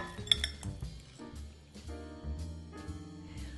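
Spoon clinks and scrapes against a bowl as about a cup of cheese is stirred into canned chili, busy and fairly close, with no talking.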